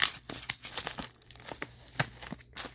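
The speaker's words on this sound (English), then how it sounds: "he has this taped up, like, I don't know what, but I'm gonna have to cut this one open" A taped-up package is cut open at close range, producing quiet rhythmic tearing and crinkling of tape and packaging in short bursts, with no talking.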